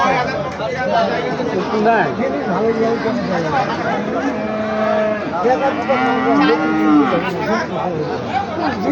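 Australian cross bull cattle at a rural livestock market in Bangladesh, with deep moos rising over a steady hubbub of crowd chatter and people talking nearby.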